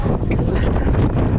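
Strong wind buffets the microphone on a mountain trail along a steep descent on Mt. Shamanseer's Baboon Peak, a loud, close, continuous roar with a brief faint voice in the gusts.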